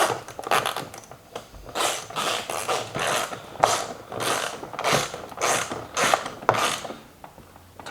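A socket ratchet wrench turns a fastener on a plastic Power Wheels ride-on toy, with rapid clicking bursts repeating in a steady back-and-forth rhythm, close and fairly loud, with no talking.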